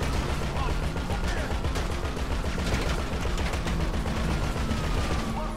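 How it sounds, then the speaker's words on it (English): Police gunfire in GTA 5 on the streets of Los Santos, dense rapid volleys of shots cracking continuously and loudly throughout, layered with game noise and chaotic background. "The cops are shooting."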